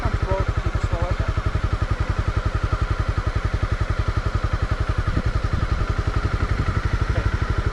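A Honda CB300R motorcycle putters along at walking pace under a beginner rider, its single engine firing in a fast, even, close-up thumping pulse with a faint voice briefly over it.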